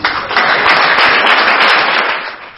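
Office staff applaud the outgoing Accountant General with loud, dense, sustained clapping from a crowd, steady for a couple of seconds before easing off slightly at the end.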